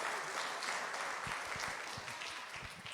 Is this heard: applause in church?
yes